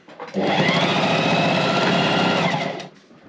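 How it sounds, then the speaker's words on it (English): A sewing machine running a short burst of stitching over vinyl coated polyester mesh, locking off a seam, a loud, steady, rapid whirring hum that starts abruptly and stops after about two and a half seconds. "let's just lock the stitch off. You just stitch over it."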